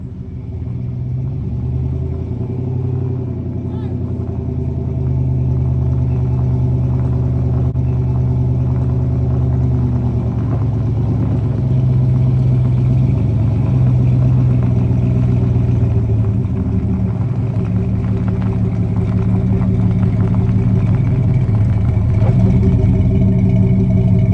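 Old pickup truck nicknamed Crookie, running and rolling again after repairs, gives a steady low engine rumble with light clatter, close and continuous throughout with no talking.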